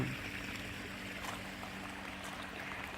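A small garden stream trickles steadily into a koi pond with aquatic plants, a constant soft wash of flowing water with no talk.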